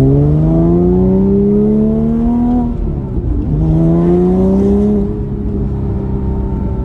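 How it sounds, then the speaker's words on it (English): Porsche Cayman S 987.1 engine heard up close, settling from a steady idle into two smooth revs that climb in pitch and drop back, loud and alone without voices. "The car still idles smoothly, it doesn't shake around or anything, and yeah, listen to this."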